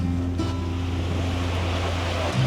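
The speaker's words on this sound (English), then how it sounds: "I've arrived at the water park, the wave pool, and it's not too busy, which is great." Waves wash through a water park wave pool as a constant surf-like rush, with a steady low mechanical hum underneath and no voices.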